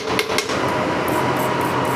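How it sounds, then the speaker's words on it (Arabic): A welding machine runs as an amateur welds metal, giving a steady crackling hiss throughout, with a few faint ticks near the start. "ادي اللحام بتاع المكنة اهو"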